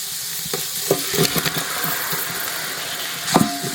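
Tomatoes going into a pan of browned onions and curry leaves for a roasted-coconut chicken curry, with a low steady sizzle and a few sharp clatters of a spoon stirring, fairly close and without speech.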